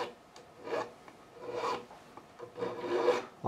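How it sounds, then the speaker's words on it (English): A metal file rasps along the fret edges of a Fender Standard Stratocaster being refretted, leaving them smooth. There are three or four separate close strokes with short pauses between them, and no talking. "We're just going to take any sharpness away with this file."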